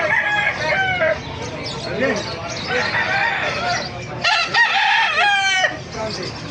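A golden rooster crows loudly a couple of times nearby at a market in Bocaue, with clucking fowl and a faint voice in the background.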